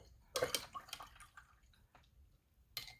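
A paintbrush is rinsed in water during an art journal session, making a few soft splashing and dripping bursts near the start and again at the end, quiet and close with no talk.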